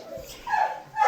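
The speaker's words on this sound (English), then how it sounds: "I'm sorry for the dog barking." A Great Dane barks and whimpers close by inside a house, in a short burst of yips that rises toward the end.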